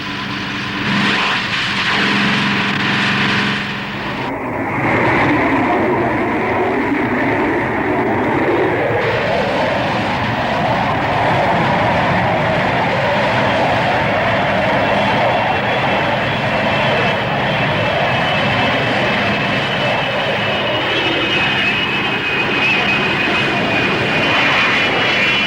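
Aircraft engines of planes flying in formation in a 1964 French aviation series, a loud, steady roaring drone that fills the whole stretch without break and without any talk.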